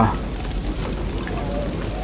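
Steady rain pouring outside, a dense continuous hiss of falling water filling the background.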